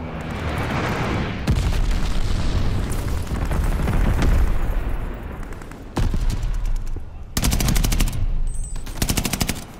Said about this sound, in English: Allies called a bombing run. Incoming.